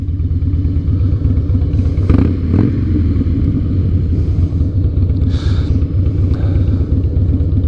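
A 2007 Harley-Davidson Night Train motorcycle engine idling close by, a loud steady low rumbling throb with a brief clatter and slight rev midway, no talk.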